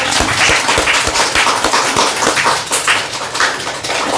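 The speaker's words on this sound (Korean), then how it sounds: "우리 늘 수고하시는 성가대를 위해 격려의 박수 부탁드리겠습니다" A church congregation applauds the choir during a Sunday service, dense rhythmic clapping from many hands that rings out steadily and loudly in the sanctuary from start to finish.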